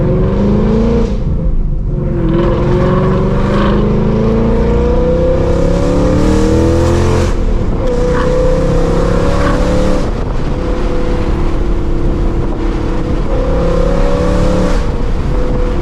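A Mustang GT V8 accelerates hard through several gear changes, its loud exhaust note rising and dropping repeatedly and echoing off nearby walls.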